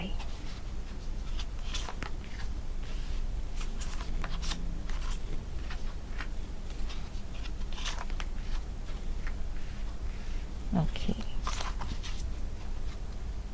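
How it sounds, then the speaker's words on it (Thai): Tarot cards shuffled and drawn at a table, with a quiet, close run of soft card slaps and flicks in irregular bursts. "สุ่มเปิดไพ่ขึ้นมา 3 ใบนะคะ"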